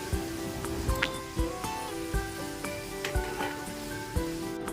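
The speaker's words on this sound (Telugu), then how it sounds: "ఇవన్నీ వేసేసుకొని ఒక నిమిషం పాటు ఆయిల్లో ఫ్రై చేసేసుకుందాం" Onion, tomato, green chili and moong dal fry in hot oil, a steady close sizzle and crackle with periodic soft thumps and scrapes as the pan contents are stirred.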